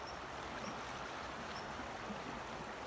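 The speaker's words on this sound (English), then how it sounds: "I hear the water." Water flows steadily in a nearby stream outdoors, a faint, continuous gurgling wash with no talk over it.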